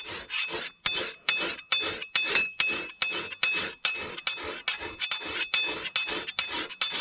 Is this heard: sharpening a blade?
yes